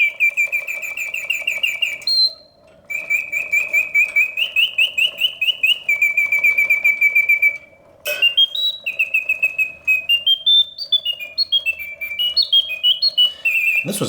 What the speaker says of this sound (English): So the bird sings with full voice, hitting all of the proper oscillating notes, yet the mechanism runs smoothly and quietly.